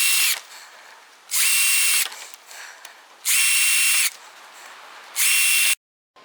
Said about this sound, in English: we're going to drill a 1/8 inch hole at that mark